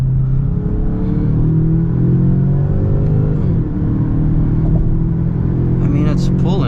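Engine of a 2023 Genesis G70 2.0t accelerating under way, a steady loud drone climbing in pitch with a shift dip midway and road rumble beneath.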